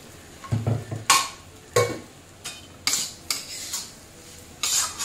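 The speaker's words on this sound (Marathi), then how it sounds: "बघा लगेच आवाज येतोय डिंक फुलण्याचा असा बारीक" Edible gum (dink) goes into hot ghee with warm flour and is stirred, with soft sizzling and crackle under several scraping stirs of a spoon against the pan, close and fairly loud, with no voices.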